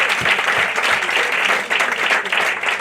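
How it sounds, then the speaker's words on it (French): Audience applause at a French stand-up comedy show in Hossegor, a dense, steady wash of clapping from a close crowd that holds for nearly three seconds. "on applaudit Jean-Marie, s'il vous plaît"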